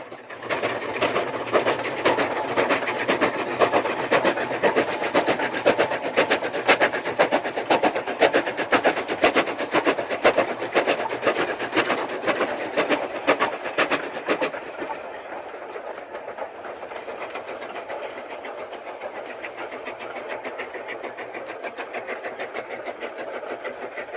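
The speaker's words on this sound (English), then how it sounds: "the train climbs towards the current terminus at Whistle Inn" Super D locomotive 49395 climbs a railway grade toward the Whistle Inn terminus, its wheels beating a loud, rhythmic clickety-clack that suddenly drops to a softer, duller rumble partway through.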